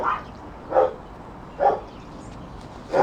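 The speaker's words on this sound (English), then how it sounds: "Both of the dogs are going mad now" Two dogs barking in short bursts, three or four separate barks spaced roughly a second apart, moderately near, heard from an outdoor decking on a cold day.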